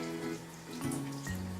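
Tap water runs into a sink while makeup brushes are rinsed and squeezed under the stream, a close, steady splashing flow that shifts in pitch as the brush moves through it.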